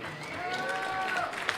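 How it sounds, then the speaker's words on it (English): Audience applause for the second-place pair at the women's doubles final of a table soccer World Series, a steady wash of clapping under sustained tonal sounds throughout. "let's have a big round of applause for second place finishers, Iveta Moore and Isabelle Stelly"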